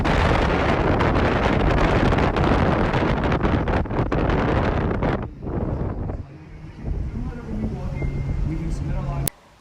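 Strong wind buffets the microphone on Santa Monica Pier, a loud, continuous broadband roar for about five seconds that drops abruptly, then lighter gusts continue with faint background sounds before cutting off.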